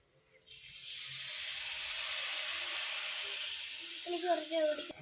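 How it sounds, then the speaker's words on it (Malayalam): A little water is poured into a hot pan of kothu chapathi, setting off a sudden, sustained hissing burst of steam that slowly fades, with a voice speaking briefly near the end. "ലേശം വെള്ളം ഒഴിച്ചു കൊടുക്കാം"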